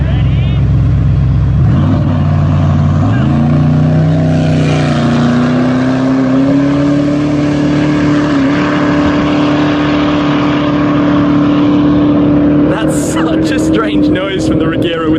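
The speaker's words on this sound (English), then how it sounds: "Strange noise from the Regera with no shifting." Koenigsegg Regera and Pagani Huayra Roadster hypercars launch in a drag race, a loud, continuous engine roar rising smoothly in pitch with no gear-shift breaks, close by, with brief voices near the end.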